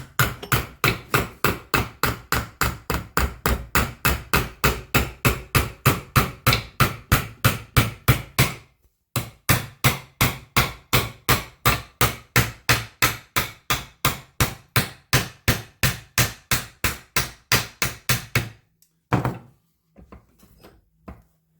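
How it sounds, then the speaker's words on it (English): Steady, rapid hammer blows on a sheet metal edge of an Austin Mini front end ring out in a long even rhythm, pausing briefly midway, then continuing before trailing off into a few scattered taps. "To get a nice edge, I'm going to have to start hammering it soon."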